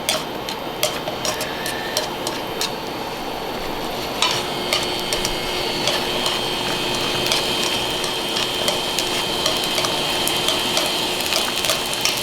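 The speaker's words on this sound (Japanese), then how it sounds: "焼ける音が聞こえてきました" Chicken thigh and green chili grilling, a continuous close crackling sizzle with scattered sharp pops and ticks throughout.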